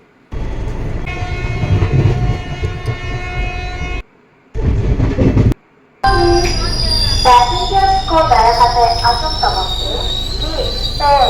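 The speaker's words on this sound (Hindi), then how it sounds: "अभी ट्रेन रुकने वाली है" A passenger train arriving at its station slows to a stop, loud rumbling and clattering with two brief gaps, then high metallic wheel squeal and ringing tones grow over the rolling noise in the final seconds.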